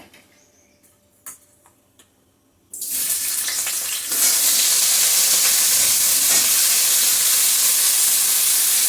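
Potatoes frying in white oil in a wok, seasoned with salt and turmeric; after a quiet start, a loud, steady broadband sizzle bursts in about a third of the way through and swells further, continuing unbroken to the end with no talking.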